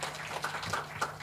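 Applause from an audience at an insurance agents' gathering, a brief burst of scattered hand claps at moderate level, close and slightly uneven.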